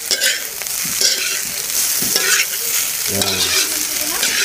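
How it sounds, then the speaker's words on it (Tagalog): Garlic fried rice stir-fried in a pan over a wood fire sizzles steadily, with scraping stirring strokes throughout; a voice says a brief word at the start. "Ayan, magsasangag tayo."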